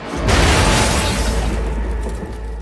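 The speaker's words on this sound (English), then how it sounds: "Then a grenade is thrown through the window" A grenade explosion bursts out with a deep boom, then a dense roar of debris and rumble that slowly fades over a couple of seconds.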